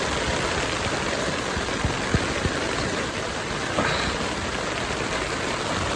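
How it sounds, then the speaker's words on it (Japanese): Heavy nighttime downpour at a camp on the deserted island of Kashima in Wakayama, falling on a Bundok solo dome tent, a dense, steady, close roar of rain with a few sharper drop hits and no voices. "何時間降ってんのやろ。 土砂降り。"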